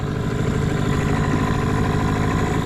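A boat's outboard motor runs steadily at low speed while steered with an extended tiller, a close, even putter with no talk over it.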